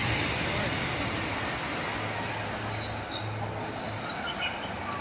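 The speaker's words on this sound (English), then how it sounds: "So yeah, Sprinter at last. 156410 is departing for Leicester." A Class 156 Sprinter diesel train departs Syston station for Leicester, giving a steady low rumble with a faint engine drone throughout, fairly close and continuous, with no talk over it.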